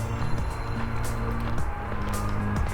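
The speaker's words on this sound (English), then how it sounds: "Getting a little closer to the interstate too, so more traffic noise" Traffic on a nearby interstate heard from a park trail, a continuous low rumble and hum of passing vehicles that stays steady throughout.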